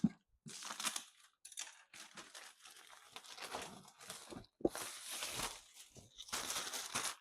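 Box packaging holding a new axle and CV boot for a Jetta VR6 being cut open, a series of close crinkling, scraping and tearing bursts separated by short pauses.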